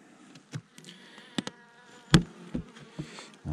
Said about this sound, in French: Attention l'abeille.